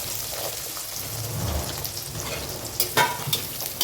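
Garlic and shallots sizzle and crackle steadily in hot oil for a drumming-stick (murungakkai) kara kuzhambu, with a stirring clatter near the end, close and continuous with no talking.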